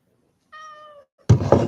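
A pet cat gives one clear, close meow indoors, followed a moment later by louder knocking and thumping sounds.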